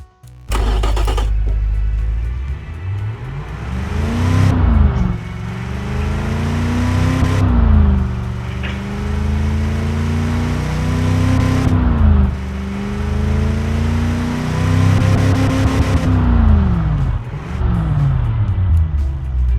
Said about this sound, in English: now the engine is purring like a wild cat